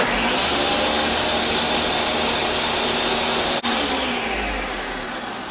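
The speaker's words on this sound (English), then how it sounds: "The soup is cooked and I'm just going to puree it, and so we're going to make a bit of a noise here." A blender roars steadily at high speed, pureeing a thick lemon lentil soup with one brief dip, loud and close with no talking.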